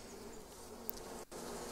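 Bees buzzing around a beehive in the Bear Simulator video game, a faint, steady insect drone with no talk.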